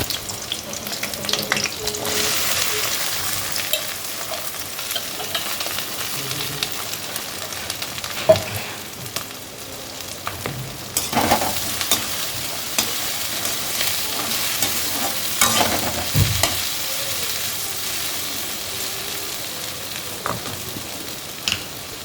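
Okra and onion bhujia stir-fries in a pan, a continuous close sizzle with repeated scraping and knocking of a spatula against the pan, running steadily with no talking.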